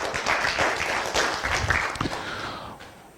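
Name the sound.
audience applause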